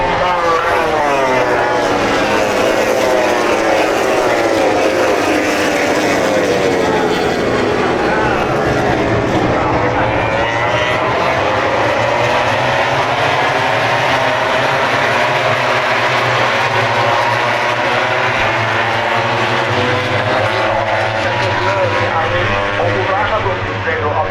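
Continuous loud engine roar with shifting, sweeping revs from several racing motorcycles warming up at Thai MotoGP 2025, crowd and voices mixed underneath throughout.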